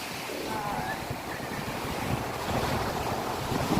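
Sea waves wash onto a beach in the evening, a steady broadband rush with swelling surges and wind noise across the microphone, a little louder toward the end.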